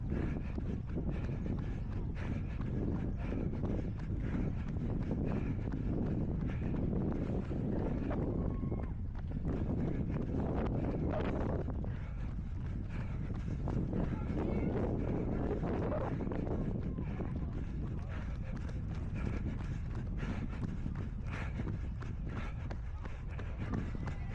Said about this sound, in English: I've nearly got through this bad bit of wind.